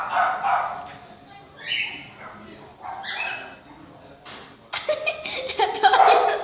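A female dog at home gives a few short, high yelping barks at middle distance, mixed with people laughing and talking.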